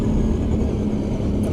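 An Arctic Cat 1000cc 4x4 ATV being ridden outdoors in freezing weather, its engine producing a steady, loud, low rumble with a constant drone and no let-up throughout.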